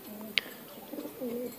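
A flying-breed pigeon gives low, soft cooing notes in short phrases, with one sharp click near the start, heard close and fairly quiet.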